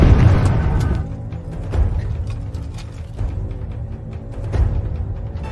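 A war-film explosion as German reinforcements blow up the area: a loud booming blast at the start that rumbles away, followed by weaker thuds and a final burst near the end.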